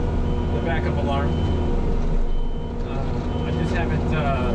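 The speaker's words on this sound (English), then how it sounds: "the backup alarm." Backup alarm on a large tiller-mulcher shredding machine, a steady loud engine roar with faint repeating tones layered over it and a voice talking on top.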